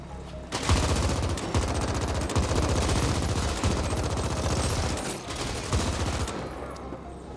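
Rapid automatic gunfire in the sci-fi shooter video game The Ascent, fired downhill: a loud, dense, continuous burst of shots with brief pauses near the start and the end, over heavy background noise.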